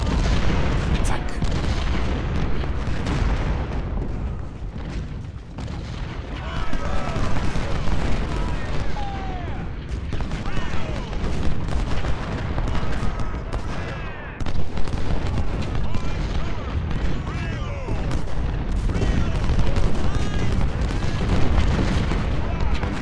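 Civil War cannon and artillery fire rumbles through a battle of Gettysburg in the Ultimate General: Civil War video game, with dense, continuous booming volleys and crackling gunfire that stay loud for the whole stretch.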